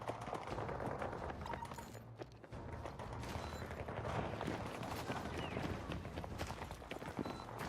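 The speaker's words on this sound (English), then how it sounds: "I hear footsteps. There's 2 of them." Enemy footsteps in the video game Battlefield 6, two players moving, heard as quick rhythmic steps buried in a dense, continuous mix of battle noise and mechanical clatter.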